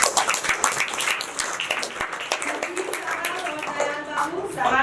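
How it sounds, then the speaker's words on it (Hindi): Loud, continuous applause and clapping from a theatre audience at a Hindi stage play, Boodhi Kaki, greeting a cast member; it is dense and steady, with a few voices mixed in. "जोरदार तालियां"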